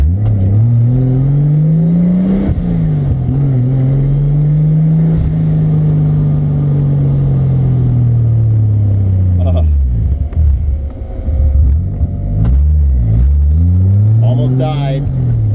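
A turbocharged 7M-GTE engine in an MK3 Toyota Supra revs loudly nearby, rising and falling repeatedly, with sharp backfire pops between revs and voices at times.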